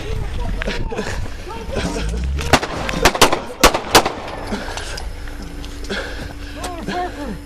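Gunshots from a police officer's weapon during a confrontation with a fleeing suspect trying to run over an officer, several loud sharp cracks in a tight cluster mid-clip amid shouting and radio chatter outdoors.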